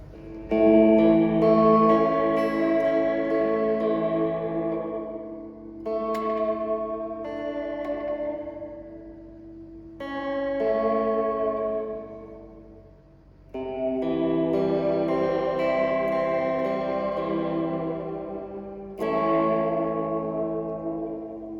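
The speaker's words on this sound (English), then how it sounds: "for delay, I will be go to digital first, and then 1, that is the crystal clean delay" A guitar played through a Fender Reflecting Pool pedal on its crystal clean digital delay setting, sustained chords ringing out with clear repeating echoes that trail and fade between phrases, loud and close with no talk.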